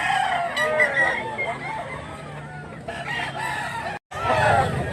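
A blue-legged bullstag rooster crows loudly nearby at a cockfighting market, with a long ringing call followed by a second crow after a short break, over background chatter and a passing vehicle.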